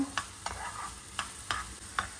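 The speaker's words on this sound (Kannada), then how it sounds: "ಕಂದು ಬಣ್ಣ ಬರುವವರೆಗೆ ನೀವು ಚಂದ ಮಾಡಿ ಹುರಿಬೇಕಿದನ್ನು" Chopped onion frying in coconut oil for a Konkani Malabar spinach curry, with a steady close sizzle broken by several sharp scrapes of a spoon stirring the pan at irregular intervals.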